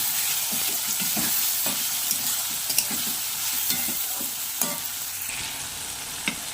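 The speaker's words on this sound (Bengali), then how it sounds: "কড়াইয়ে তেল গরম করে একে একে পেঁয়াজ কুচি টমেটো কুচি এবং রসুন পেস্ট দিয়ে দেবো এবারে ভালো করে নাড়াতে থাকবে" Chopped onion, tomato and garlic paste stir-frying in hot oil in a wok, a continuous sizzle broken by repeated scraping strokes of a spatula at an uneven rhythm, close and moderately loud, with no voices.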